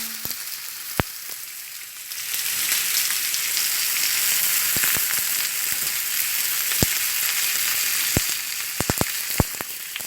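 Food grills and sizzles in a hot pan: a quieter hiss for the first two seconds, then a loud, steady frying crackle, scattered with sharp clicks and pops.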